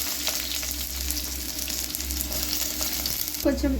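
Onions with mustard seeds and cumin frying in hot oil, a steady close sizzle with small crackles and a brief stirring clatter near the end.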